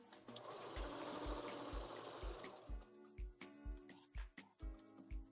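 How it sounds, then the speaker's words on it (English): A sewing machine runs a straight stitch, first as a steady whirring hum, then as a quick, even chain of close, loud mechanical thumps. "You're literally sewing with a straight stitch."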